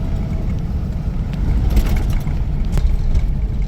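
An off-road vehicle drives across the Wadi Rum desert in Jordan, its engine making a steady, close, low rumble mixed with wind noise throughout, with a few faint knocks and rattles.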